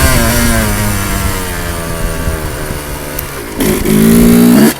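Motorcycle engine idling with a steady harmonic rumble, then a sharp blip of the throttle near the end brings a louder, rising rev close by before it cuts off.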